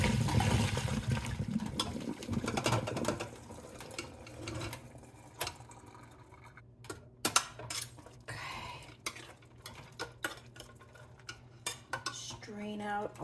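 Water being strained out in a kitchen sink while cooking a sweet potato casserole, with clattering pots and dishes, splashing and scattered clinks, close and fairly quiet.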